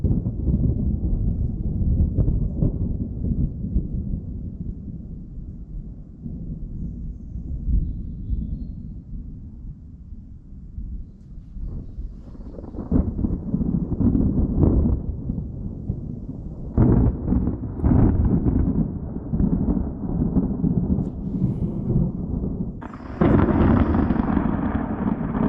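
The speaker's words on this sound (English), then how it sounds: "And thunderstorms we got." Heavy thunder from a thunderstorm over a camp during a canoe trip across Sweden. Long rolling rumbles build and fade, and sharper, louder cracks break out in the later half.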